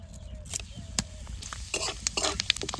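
Bay leaves and whole cumin seeds sizzle as they hit hot oil in a pan. A close, steady crackle sounds alongside light scraping stirs and a few sharp clinks of a utensil against the pan.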